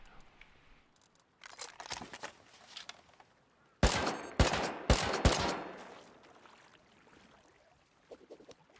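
Gunfire in the survival game Rust comes as bursts of sharp, rapid shots, sparse at first and then a louder, dense volley in the middle, fading to scattered pops by the end, fairly distant and moderate in level.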